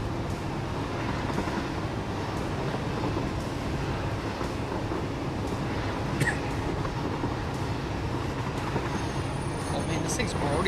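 A train running on rails in the video game Satisfactory, a continuous rumbling roll of wheels with faint squeals and clacks, steady and moderately loud, while a person talks over it.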